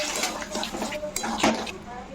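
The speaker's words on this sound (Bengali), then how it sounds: "জাস্ট একটুখানি জল দেবো।" Cooking pot with soybean chunks, potato and eggplant frying in oil clinks against a utensil while a little water is added, giving scattered near clatters and a brief splash-like hiss under a speaking voice.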